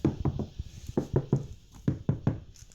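Knuckles rap on the hollow, untreated rear door of a car, nine sharp knocks in three quick groups of three, close and clear with a dull, resonant ring.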